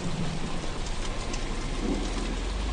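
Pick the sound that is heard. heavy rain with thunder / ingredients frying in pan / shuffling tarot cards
heavy rain with thunder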